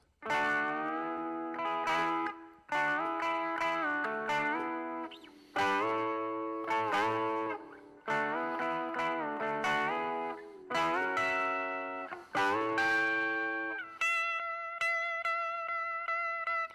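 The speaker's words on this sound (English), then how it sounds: "I will turn on the distortion to try to blur the lines a bit, and then I'll use the pitch bend" Distorted electric guitar playing repeated sustained chords with sliding pitch bends, each phrase swelling then cutting off, ending on a bright, clean held chord.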